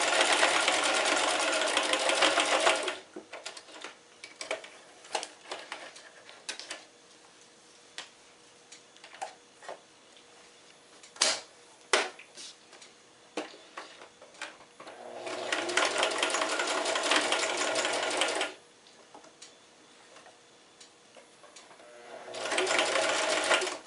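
A sewing machine stitches a fabric face mask in three bursts, one at the start, a longer one in the middle and a short one at the end, separated by quiet ticking and handling clicks.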